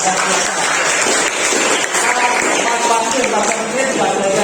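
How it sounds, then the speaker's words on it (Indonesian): A class of schoolchildren claps together for everyone in a classroom, a dense, steady patter of many hands that runs unbroken from start to finish. "tepuk tangan untuk kita semua dulu ya"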